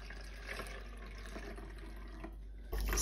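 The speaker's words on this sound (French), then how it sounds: "Donc on rajoute de l'eau." Water poured through a funnel into a bottle while making a homemade lava lamp, a steady soft trickling and splashing stream running throughout, close by and fairly quiet, with a louder rush at the very end.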